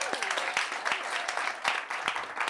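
A studio audience on a talk show claps through the closing, a moderate wash of applause with some sharper individual claps and faint voices mixed in.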